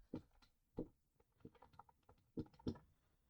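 Java code being typed on a computer keyboard: sparse, close key clicks with a few louder strikes, irregular in rhythm, in a quiet room.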